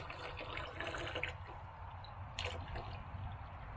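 Water runs steadily from a hose or tap into 5-gallon buckets outdoors, a continuous close splashing fill with brief brighter gushes, no talk.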